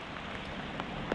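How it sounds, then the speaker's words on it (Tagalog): Rain falls on open farmland beside a national highway in Calauag, Quezon, a steady soft hiss with a few sharper drops standing out, and no voices over it. "Ulan."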